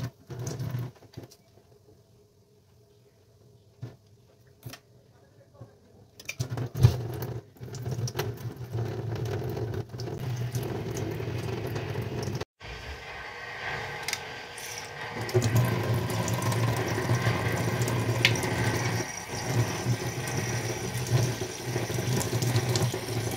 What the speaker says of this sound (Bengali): তো চলো এগুলোকে চটপট আগে ধুয়ে পরিষ্কার করি।